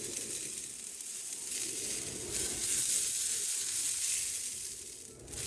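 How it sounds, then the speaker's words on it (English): Apple juice spritzed onto baby back ribs cooking on a Weber Summit Kamado grill, giving a steady close hiss and sizzle that swells with the sprays and fades near the end. "Going to give them a little spritz with some apple juice."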